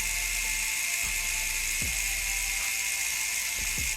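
A small DSPIAE ES-A electric reciprocating sander buzzes continuously at a high, steady pitch like a toothbrush, close up, with a few faint clicks as it presses against a surface.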